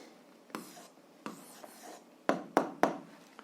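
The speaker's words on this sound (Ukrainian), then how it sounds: "записуємо відповідь, пишемо відповідь" A pen writes an answer by hand on paper, giving soft scratchy strokes with several sharp taps and scrapes, close and quiet, with no talking.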